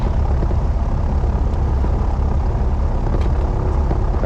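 Steady, loud piston-engine thrum fills a Piper Aztec twin-engine airplane cockpit, a continuous low drone with no pauses, heard near and alone.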